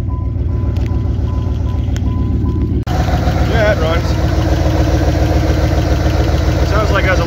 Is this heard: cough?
no